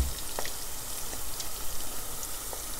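Tomato paste sizzles in a hot pan while cooking spaghetti sauce, a faint steady hiss with a few soft pops, close and without talk.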